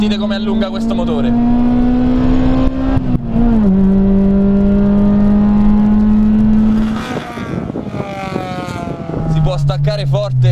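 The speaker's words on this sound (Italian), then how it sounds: "Sentite come allunga questo motore." Honda Integra Type R engine revving hard on the move, a loud, close exhaust note climbing and holding high through long pulls with brief dips at gear changes, then a lower rev near the end, with someone talking over it.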